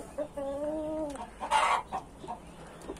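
On a Brazilian farm, a speckled bearded hen and a young rooster cluck and call in short bursts, one drawn-out tonal note followed by several sharper clucks nearby.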